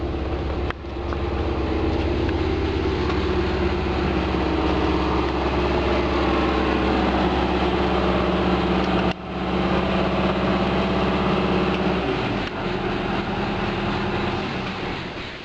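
The diesel engine of a 1993 Prevost Le Mirage motorcoach idles steadily with a deep, constant rumble and drone, loud and close, running without pause for the whole stretch.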